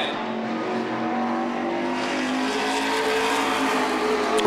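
Modified race cars roar around Beech Ridge Motor Speedway in a 2006 Modified Racing Series event, a dense, continuous engine drone from several cars close by with rising pitch, with no talk.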